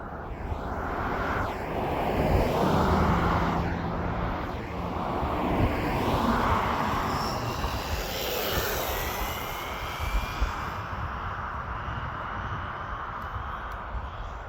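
A Louise RC LRX radio-controlled car driven at full throttle toward about 50 mph gives a loud, high electric motor whine that swells and fades as it passes, with rushing wind noise over the microphone and no voices.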